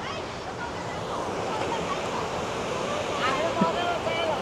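The Nikas river near Birendranagar, Surkhet, rushes with a constant broadband roar close by, with faint voices mixed into the flow.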